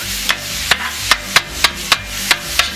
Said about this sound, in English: spatula here and just chop it up a little bit, separate it, so it's not too chewy on you.